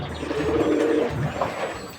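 Pigeons cooing close by in a backyard where ducks and pigeons are kept, a low rolling coo lasting a moment, alone with no talking.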